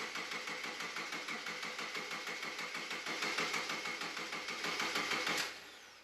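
Subaru Forester EJ25 engine cranking without firing, with its ignition coil unplugged after a head gasket replacement: a steady rhythmic starter churn for about five seconds, then stopping abruptly.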